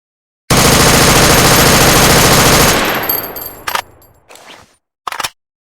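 AK-107 assault rifle firing in an animation, a loud sustained full-auto burst of about two seconds, then an echoing decay and a few brief mechanical clicks, with no talk.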